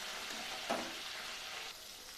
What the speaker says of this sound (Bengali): আমি ডুবো ডুবো তেলেই আমি পটলটাকে ভাজা করছি